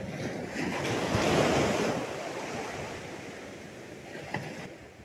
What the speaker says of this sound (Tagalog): Rinig na rinig po parang naulan yung tunog ng alon.